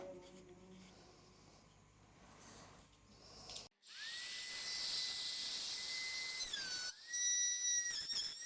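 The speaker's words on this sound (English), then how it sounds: "Get the Dremel over here." A Dremel rotary tool engraves a small pocket cross, running with a high, steady whine for about three seconds, then briefly dipping and revving again, after quieter handling noises.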